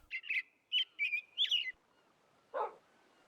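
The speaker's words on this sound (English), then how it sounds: "And listen to the bird chirp chirp." A bird chirps in a Minecraft game, giving a quick series of five faint, high tweets in a row, followed after a pause by a single lower, bark-like sound.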